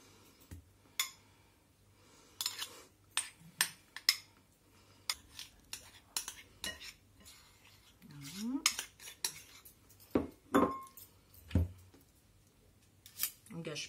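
Softened butter being whisked into marble cake batter in a bowl makes irregular metallic clinks and taps of the whisk against the bowl, close and intermittent, with quieter gaps between bursts.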